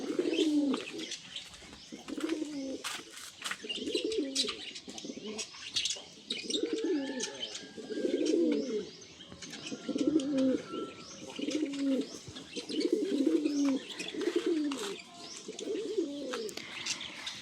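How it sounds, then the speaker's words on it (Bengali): Pigeons coo in soft, rolling phrases repeated steadily, with occasional light chirps and faint background noise. "বাইরে সব পায়রাগুলো"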